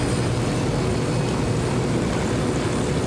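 A propeller airplane engine in the video game Ghost Recon Wildlands makes a steady, dense drone, close and constant throughout, with no talking.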